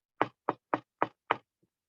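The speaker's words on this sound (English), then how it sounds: "He knocked on the first little pig's door." Five sharp, evenly spaced knocks on a door, close and isolated against silence, with a faint tap trailing after.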